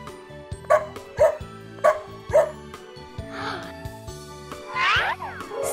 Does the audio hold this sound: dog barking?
yes